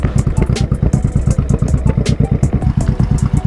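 A three-wheeler motorcycle engine idles close by with loud, rapid, rhythmic chugging and clattering pulses, steady throughout.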